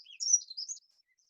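A dunnock gives a brief, scratchy, high-pitched warbling phrase of under a second, faint and isolated, then falls silent.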